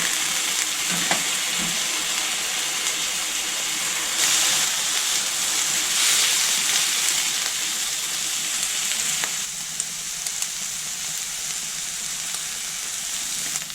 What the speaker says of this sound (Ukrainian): Гриби з цибулькою обсмажилися